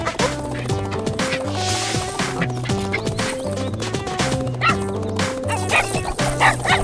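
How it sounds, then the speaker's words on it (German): A cartoon dog barks and yips in rapid, repeated bursts over busy, loud musical backing with clip-clop hoofbeats, all close and continuous. "Torch, dummer Hund!"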